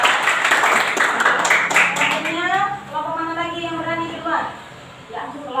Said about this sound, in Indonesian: Beri aplaus ataupun tepuk tangan dulu untuk kelompok Zara.